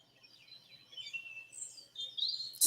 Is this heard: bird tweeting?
yes